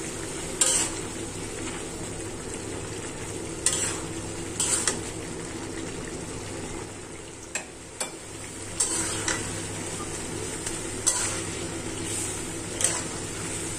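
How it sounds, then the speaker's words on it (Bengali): Vegetables and egg being stir-fried in a pan give a steady low sizzle, with a spatula scraping and clinking against the metal every few seconds, close up and with no talking. "এভাবে একদম ভাজা ভাজা করতে হবে"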